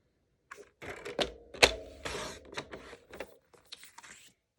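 Basic white cardstock being sliced on a paper trimmer, a series of short crisp cuts and sliding blade strokes close by, with clacks and rustles of the paper between them.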